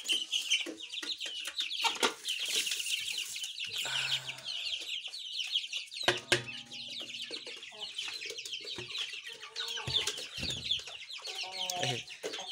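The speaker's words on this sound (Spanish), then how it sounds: "los codornices hacen un ruido como si fueran un cuy" Quail chirp and squeak in short, scattered bursts, fairly close, with occasional rustling and clucking-like calls between them.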